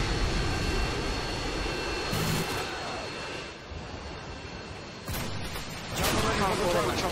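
A Harrier jet roars overhead in Modern Warfare 2 on the Afghan map. The loud, continuous engine rumble swells and fades, with a burst of gunfire near the end.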